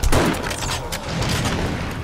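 A heavy shotgun blast in 7 Days to Die during a zombie horde night, followed by a couple of lighter gunshots and mechanical clatter, with no talking.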